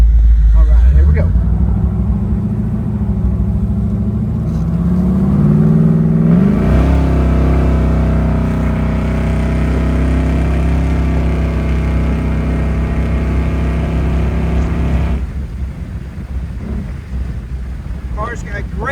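A 1968 Pontiac Firebird 400 convertible accelerating hard, its loud engine climbing through the revs, dropping at each gear shift and rising again, with heavy wind rush throughout before easing off near the end.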